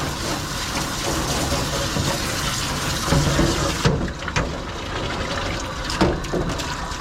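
Running water rinses a corgi after a haircut: a continuous, close splashing gush with occasional soft knocks and shifts in the flow throughout.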